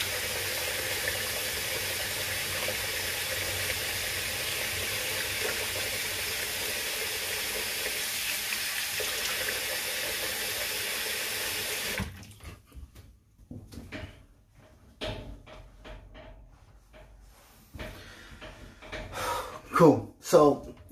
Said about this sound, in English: Let me rinse my face and we'll give the closing thought.